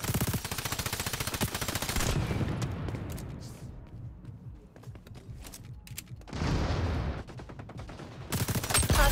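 Automatic gunfire in the multiplayer shooter XDefiant, loud rapid bursts rattling for the first two seconds, easing into scattered shots, then surging again in dense volleys near the end.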